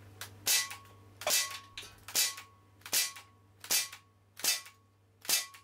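Seven evenly spaced rifle shots crack out one after another at a tin can target, each a sharp close report with a short ringing tail, steady rhythm, no voices over them.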